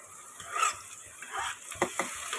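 Whole green chillies drop into a pan of vegetables frying in oil. A quiet, steady sizzle carries a few soft stirring scrapes and bursts of crackle.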